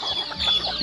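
Farm chickens clucking up close, a short burst of several quick clucks in an uneven rhythm, loud and clear with no talking.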